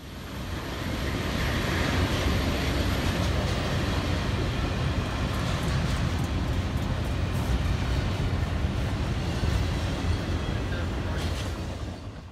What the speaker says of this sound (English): westbound intermodal train 233 flew by the 5196 and crew at speed